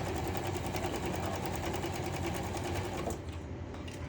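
A sewing machine stitches around a junk-journal tag made of fabric and lace, giving a steady, close, continuous whirring hum that cuts off near the end.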